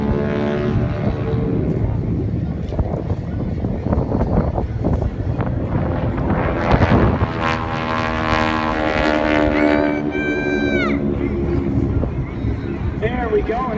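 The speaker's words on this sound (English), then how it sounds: "that rapping sound, that sound, is the tips of the propeller as they go supersonic." Propeller aircraft performing aerobatic rolls at an air show in Terrell, Texas, its engine droning with a rasping, rapping tone from supersonic propeller tips. The sound rises and falls continuously amid wind noise while a commentator talks over it.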